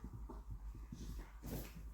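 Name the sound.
excited happy dog whimpering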